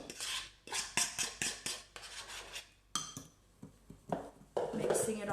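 Mashed banana being mixed into wet ingredients in a bowl, a run of quick clinking utensil strokes against the bowl, then scraping and rubbing, close and fairly quiet with some talk in between.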